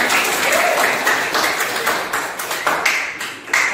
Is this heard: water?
no